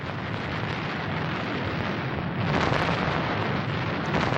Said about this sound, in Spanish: una demoledora barrera de artillería alemana, acompañada por disparos de cohetes, ilumina los cielos de Bélgica y Luxemburgo